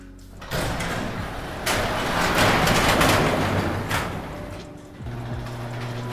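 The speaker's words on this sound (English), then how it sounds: "We inspect the door for manual operation." A garage door is pushed by hand during an inspection, rolling with a rumbling, rattling slide that swells and fades over several seconds and ends in a soft clunk.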